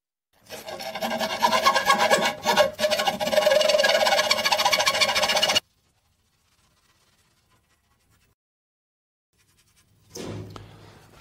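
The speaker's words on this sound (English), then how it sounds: "So I'm just going to cut it in half right now and sharpen it." A bimetal hand saw blade with 24 teeth per inch cuts through aluminum in steady, rasping back-and-forth strokes for about five seconds, then silence, then a brief bump of handling.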